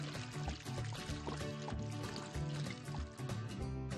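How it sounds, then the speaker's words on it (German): Water pours steadily into a glass, a continuous splashing trickle close to the microphone with no break. "Zuerst gießen wir das Wasser ins Glas."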